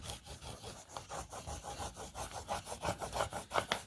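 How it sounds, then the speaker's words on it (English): Repeated hand rubbing of a transfer sheet onto a canvas board, a steady series of scratchy, rasping strokes in a quick rhythm, close and fairly quiet, with no talking. "Just rub the transfer."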